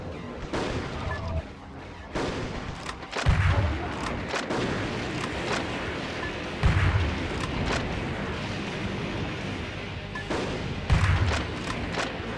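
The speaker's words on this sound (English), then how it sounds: "I do like using the grenade launcher." A grenade launcher firing in the space shooter Yars Recharged, heard as several deep booming blasts spaced a few seconds apart over a constant dense layer of game noise and effects.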